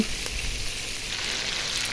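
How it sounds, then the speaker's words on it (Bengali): Chopped onion frying in hot oil for a spicy broiler chicken curry, a steady close hiss and crackle running evenly with no voices. "আমি এখানে পেঁয়াজ দিয়ে দিলাম যখন পেঁয়াজটা কুচি করে কেটে নিয়েছি এখন এটা ভেজে নেব"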